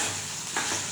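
Potatoes, onion, garlic and green chili fry in a pan with a close, steady sizzle and a brief scrape of stirring partway through.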